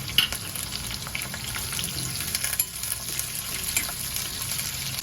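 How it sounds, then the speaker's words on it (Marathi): Two chopped onions sizzle and fry in hot oil with curry leaves, green chilies and browned garlic for a Marathi dried fish chutney, a steady close crackle with occasional stirring scrapes throughout. "2 कांदे मी मध्ये चिरून घेतले, परतून घेऊया."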